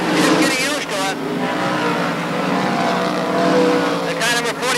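A race car at Can-AM Speedway in 1989, running under racing conditions, roars steadily and loudly throughout beneath continuous commentator talk.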